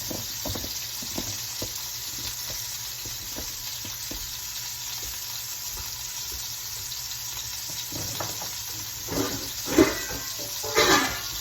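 Ingredients for a loaded pork roast are rinsed under running water, which makes a steady rushing hiss that ends in a few louder splashes near the end, with no speech.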